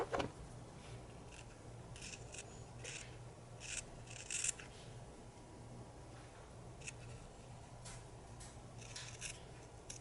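Scissors trimming fabric for a hair slide, soft snips and rubbing of cloth in scattered bursts, close but very quiet over a low steady hum, with no talk.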